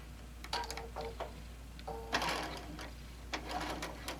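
Sewing machine stitching fabric in short bursts, with a quick back tack then a longer run down the side, the motor whirring in close, fairly faint spurts separated by brief pauses.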